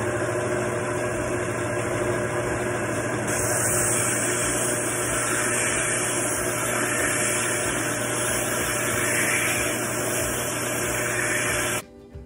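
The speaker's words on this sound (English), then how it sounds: "Too easy with the belts or the bandsaw." A belt sander or bandsaw shapes turkey wing bones for a call, running with a continuous loud motor hum and a high whine that holds steady until it cuts off abruptly at the end.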